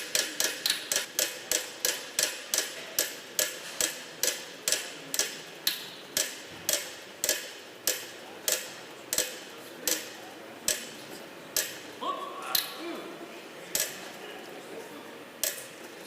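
A lottery prize wheel spins on a Bulgarian national lottery TV show, its pointer ticking in a rapid, even clatter that slows steadily toward a stop, with brief voices underneath near the end.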